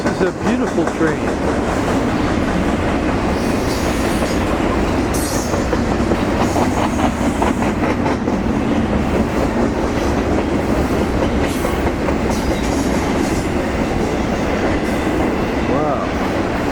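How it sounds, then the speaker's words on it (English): A train rushes past close by in a loud, continuous roar, with clickety-clack wheel rhythm and occasional faint squeals running steadily throughout. "It's a beautiful train."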